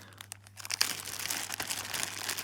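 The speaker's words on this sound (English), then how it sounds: "everything comes in a plastic bag." A plastic bag from a survival kit crinkles and rustles up close, with sharp crackles starting after a few quiet handling noises and continuing steadily over a low hum.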